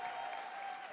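Audience applause at a sales training seminar, a steady wash of clapping from many hands filling the full second without speech.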